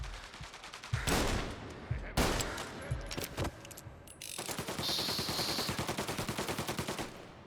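Rapid machine-gun fire in Mafia: Definitive Edition tears through wood, with a few heavy single shots first, then a long, steady rattling burst, loud and close, with a faint voice briefly underneath.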